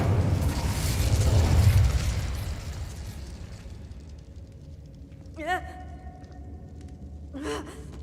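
A whooshing blast of fire from the Incendio spell in Hogwarts Legacy roars loudly, swells, and then fades into a low rumble. A short voiced exclamation follows later, then another.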